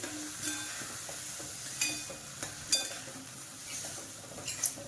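Barnyard millet roasting in ghee in a pan sizzles softly and steadily, with occasional scrapes and clinks of a spoon stirring the grains.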